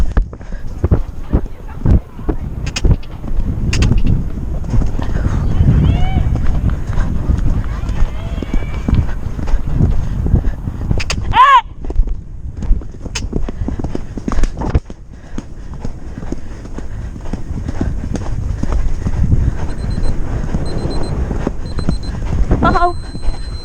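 Pony hooves trotting at a riding competition, a steady clip-clop rhythm on the ground heard under frequent spoken coaching, with a short high tone partway through.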